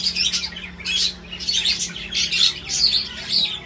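Pet birds perched together chirp and squawk in bursts of tweets, fairly close and clear, with a low steady hum running underneath.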